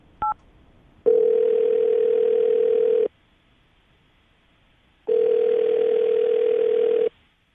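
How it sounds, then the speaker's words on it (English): Telephone ringback tone heard as two long, steady beeps of about two seconds each, separated by a gap, loud and alone after a brief click, while a call is placed to a radio show guest. "I'm going to dial his phone number right now"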